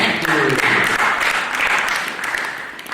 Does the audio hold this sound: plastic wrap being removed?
no